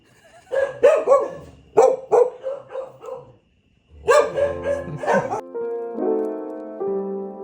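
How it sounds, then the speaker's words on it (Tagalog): Several dogs bark in repeated close bursts while travellers wait for a ride, with a pause and then another flurry of barks followed by whimpering, yipping tones. "inaatake kami ng mga aso habang naghintay sa Grab"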